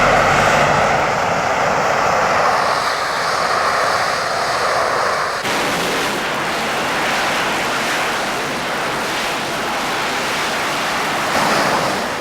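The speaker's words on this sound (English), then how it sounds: "Once the Harrier is in hover mode, the wings provide no lift." A Harrier jump jet hovers on the thrust of its four engine nozzles, producing a loud, continuous roaring rush that shifts abruptly midway and then holds steady and powerful.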